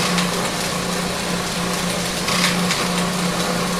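A homemade one-inch belt grinder runs at its buffer end, a loud, steady motor drone with a low hum, sitting on an anvil, continuous throughout with no speech.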